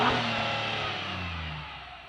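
A 2025 Acura MDX Type S engine, heard from outside the car, revs and then falls away, a loud throaty tone that sinks in pitch and fades steadily over two seconds.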